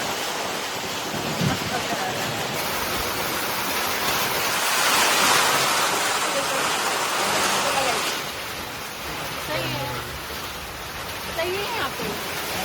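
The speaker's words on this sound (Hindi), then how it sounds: "बारिश अभी बहुत ज़्यादा तेज हो गई एकदम से" Heavy rain pours down steadily in a loud, dense wash on a motorcycle ride through northeast India, briefly swelling in the middle, with a faint voice now and then underneath.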